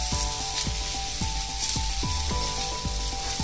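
Ginger sizzling in a hot frying pan while cooking sukha chicken, a steady close hiss with repeated scraping stirring strokes.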